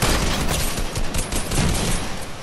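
Rapid bursts of gunfire from a Fortnite firefight ring out loudly and continuously in close, overlapping volleys, with no voices over the shots.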